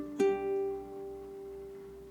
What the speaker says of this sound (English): So I'll play with the 2-finger approach.